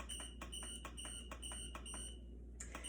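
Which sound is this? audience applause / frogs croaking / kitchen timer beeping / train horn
kitchen timer beeping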